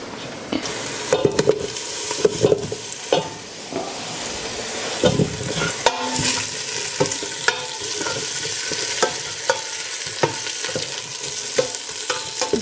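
Carrots and vegetables cook in a pot for soup, a close, loud sizzle with frequent clinks and scrapes of a utensil against the pot throughout.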